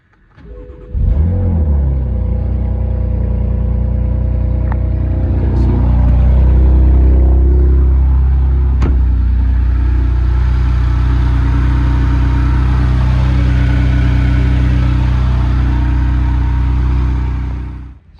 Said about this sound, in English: Let's start it up real quick for the first time.